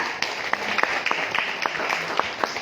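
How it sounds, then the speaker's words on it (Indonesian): Seminar audience clapping together after a presenter's prompt, a moderate round of individual claps standing out over a room murmur. "Tepuk tangan dulu untuk kita semua."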